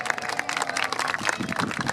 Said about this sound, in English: So just have a big cheer for Piper there for catching him.